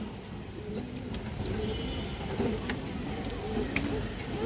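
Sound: pigeons cooing

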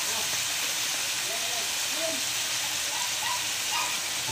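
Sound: soy sauce added to hot pan, sizzling

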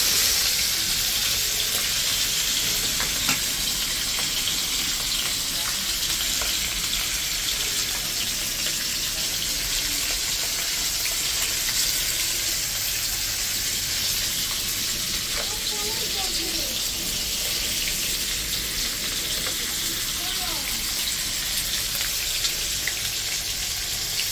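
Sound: hilsa fish frying in a pan

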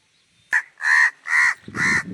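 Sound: crow cawing

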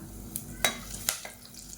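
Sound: fennel, spices and curry leaves sizzling in hot oil

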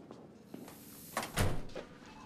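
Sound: door being closed

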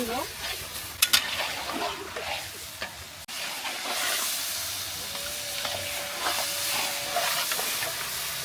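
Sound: dumba meat stirred with spices in hot oil

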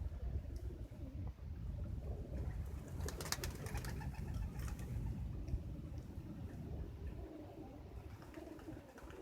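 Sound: pigeons cooing

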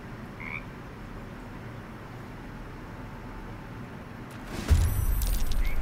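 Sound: frog croaking in video game Baldur's Gate 3

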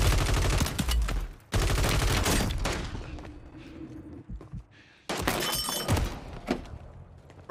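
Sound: gamer slamming desk in rage

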